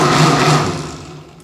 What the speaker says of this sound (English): So we're gonna give this a blend.